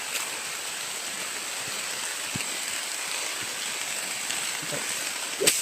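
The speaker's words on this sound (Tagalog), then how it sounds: "Sobrang lakas ng ulan tol." Steady heavy rain hisses and roars without a break, with faint scattered knocks and a brief sharper patter near the end.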